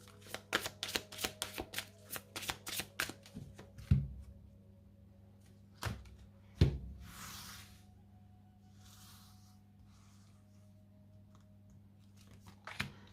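Tarot cards shuffled by hand in a quiet room, a rapid run of crisp riffling snaps for about three seconds, then a few isolated taps and soft card slides, no talking.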